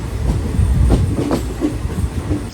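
A Konkan Railway passenger train runs along the tracks with a loud, continuous rumble and rhythmic clatter of wheels, heard from on board at close range.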